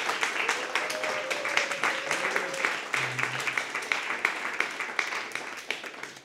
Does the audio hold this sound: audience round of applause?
yes